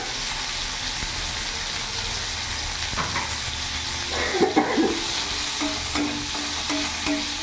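Small mourola fish with raw green mango, salt and turmeric stirred in a hot pan, a continuous loud sizzle with irregular scrapes and clinks of the spatula, no voices.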